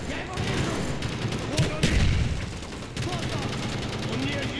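Constant gunfire and grenade-launcher blasts in a Call of Duty Black Ops campaign finale, a dense, loud barrage of overlapping shots with heavier booms around the middle, continuous throughout.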